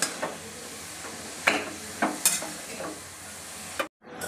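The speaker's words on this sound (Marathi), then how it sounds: "तर या ठिकाणी मी गाजर छान परतून घेतलेलं आहे तुपावर" Grated carrots stirred and sautéed in ghee for carrot halwa, a ladle scraping the pan in several distinct strokes over a soft sizzle, close and fairly clear, ending in a brief silence.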